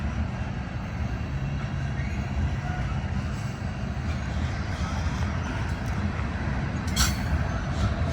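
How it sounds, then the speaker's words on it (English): BNSF freight train idling in a rail yard in Castle Rock, Colorado, a steady low diesel rumble heard from a distance, constant throughout with faint outdoor background and a brief higher hiss near the end. "There's the other train at the yard here sitting. It's always sitting here and running every time we've seen it."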